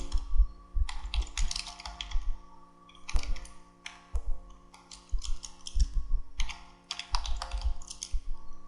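Bursts of typing on a computer keyboard while composing an email message, with fast clustered key clicks separated by short pauses, close and clear, with no voices.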